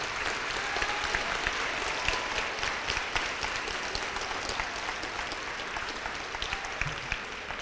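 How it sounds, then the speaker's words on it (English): Applause for the educators at a middle school 8th grade awards presentation: a room of people clapping steadily and evenly at a moderate distance. No voices rise above it. "just a big round of applause for the wonderful educators that we have in"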